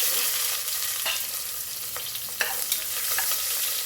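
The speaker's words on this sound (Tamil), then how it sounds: "கொஞ்சம் சீரகம் பெருங்காயம் நல்லா பொறிஞ்சு வரும்போது சின்ன வெங்காயம் வச்சுருக்கேன்" Cumin, asafoetida and small onions fry in hot oil with a close, steady sizzle, broken by a few sharp stirring clinks and scrapes, with no talking.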